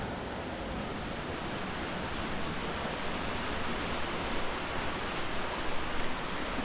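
Cabag Falls, a waterfall in Cavite heard from above near a cave, pours as a dense, steady broadband roar that stays constant and close throughout, with no voices.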